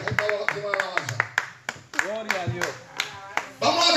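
A church congregation claps in a quick, regular rhythm while voices call out and speak over the clapping.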